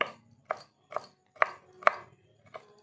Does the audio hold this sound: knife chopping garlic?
yes